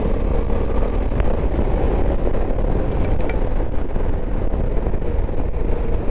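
A Honda Africa Twin 1100 motorcycle pulls hard in sport mode, a steady loud engine drone blended with heavy wind rush across the microphone, continuous throughout without any talking.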